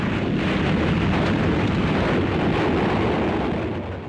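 A German Panzerfaust handheld anti-tank rocket explodes in a wartime ambush on lead vehicles, a loud sustained roaring blast with heavy low rumble that stays dense and powerful for several seconds before easing slightly.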